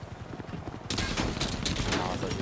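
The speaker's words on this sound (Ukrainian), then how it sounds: "Шахта хтось стріляє." Rapid bursts of video game gunfire crackle over a busy background, with a sharp jump in loudness partway through and voices underneath.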